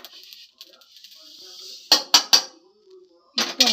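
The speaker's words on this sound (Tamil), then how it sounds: "இப்போ வந்து இதை வந்து அந்த பாத்திரத்தில் வாளியில் போட போகிறேன் நான்." Metal clatter and clinks as homemade masala powder is transferred from a vessel into a bucket: a quick burst of three sharp knocks, then a second cluster, with faint hiss and soft handling noises between.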